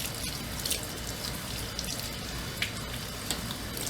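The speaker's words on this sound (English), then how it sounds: "Clean, clean, clean my hair, TT." Water from a tap runs steadily into a sink while reborn doll kit hair is washed, giving a constant hiss with scattered drips and splashes and no speech.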